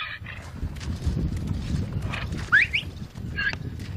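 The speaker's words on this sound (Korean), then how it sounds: "3마리의 당나귀를 몰고 험한 돌산의 오르막길을 걷는 일은 쉽지 않습니다." Three donkeys climb a steep, rocky mountain path toward a mine in Tanzania, their hooves clopping over stone beneath a constant outdoor rumble, while a few short chirps and calls break through now and then.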